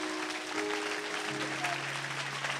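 A church congregation claps and cheers for Jesus, dense sustained applause filling the room with a held sung or shouted tone over it.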